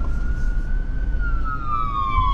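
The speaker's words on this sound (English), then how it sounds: "So ambulance." An ambulance siren wails steadily through a low rumbling background, its long tone slowly falling in pitch as the vehicle passes by a dairy farm.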